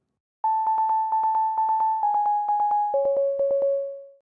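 A steady synthesized sine tone with rapid pulsing repetitions, stepping down in pitch twice, clean and electronic with no voices.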